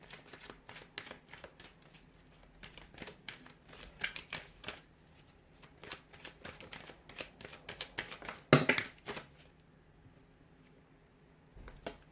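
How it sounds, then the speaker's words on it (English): Soft riffling and tapping of tarot cards being shuffled up close, in quick irregular bursts with short pauses, fairly quiet. "we'll give the cards a shuffle"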